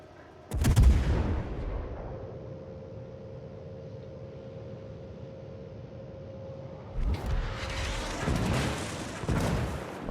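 Heavy naval guns boom aboard a battleship in a combat video game, a loud blast near the start followed by a long rumbling tail and a steady tone, then several more muffled booms and bursts of fire toward the end.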